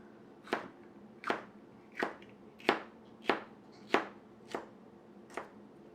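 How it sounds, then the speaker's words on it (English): A knife slices banana peppers into rings on a board, eight crisp evenly spaced cuts in a steady rhythm, close and quiet. "So the banana peppers we're cutting into rings."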